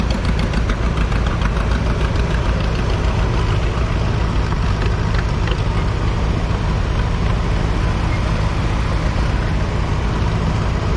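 A tractor engine idles close by with a steady, loping low rumble and a faint knocking pulse, unbroken for the whole stretch with no talk.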